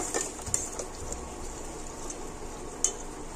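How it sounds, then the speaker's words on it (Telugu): A spoon stirs buffalo-milk cream simmering in a pan as it turns to ghee. There is a soft, steady bubbling sizzle with light scraping and a couple of brief metallic clinks. "ఇట్లా అడుగు అంటకుండా కలబెట్టుకుంటా ఉండాలా."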